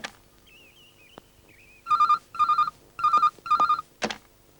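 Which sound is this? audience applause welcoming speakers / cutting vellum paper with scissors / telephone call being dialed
telephone call being dialed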